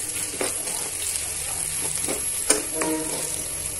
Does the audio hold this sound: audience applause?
no